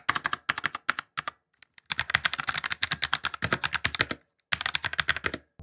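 Fast, steady clatter of keys on a mechanical keyboard, crisp close-up clicks in quick bursts with brief pauses between runs, no voices.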